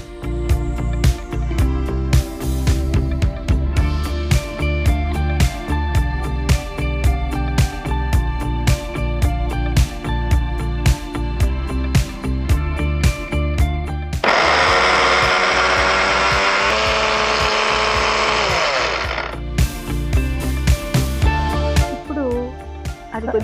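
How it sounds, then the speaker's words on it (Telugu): A mixer grinder whirs loudly as it grinds boiled chana dal, a steady motor roar of about five seconds rising over busy kitchen clatter and speech. "సో ఫస్ట్ దీన్ని మిక్సీ పెట్టుకోవాలి"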